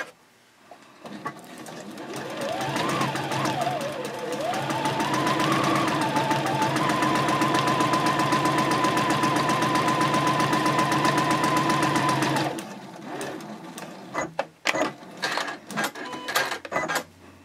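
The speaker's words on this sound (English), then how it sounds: "just go ahead and sew down each line" A sewing machine quilts straight lines across a fabric panel for a zippered pouch, running loud and steady for about eleven seconds after a brief start-up, then stopping and giving way to scattered clicks and handling noises.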